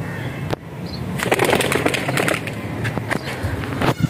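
Pigeons flap and rustle up close with sharp wing claps and scuffs, a few quick bursts over a busy, noisy background.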